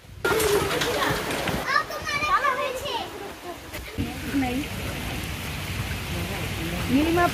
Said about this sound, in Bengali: খুব বৃষ্টি, খুব না হালকা ঝুম বৃষ্টি